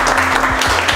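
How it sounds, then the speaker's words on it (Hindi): A training-class audience applauds loudly in a short, dense burst of clapping, with a low steady hum running underneath. "जोरदार ताली बजाइए इसके लिए।"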